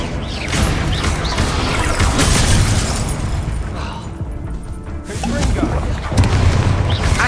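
Bombarda and Confringo spell blasts in Hogwarts Legacy go off in quick succession, dense loud booms and crackling bursts piling into a continuous roar, with a brief lull in the middle before the blasts resume.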